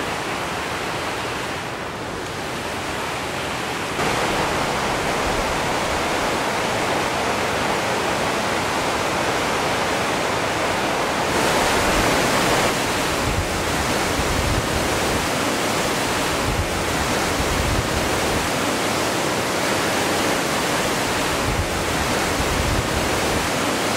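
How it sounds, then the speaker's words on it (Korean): A glacier-fed valley stream rushes beside the Langtang trekking trail in the Nepal Himalaya, a loud, steady roar of water that fills the whole stretch with no voices, swelling slightly partway through. "빙하 계곡 물길을 따라 이어지는 랑탕 트레킹 로드는 어느 곳을 지나든지 항상 물소리로 가득합니다."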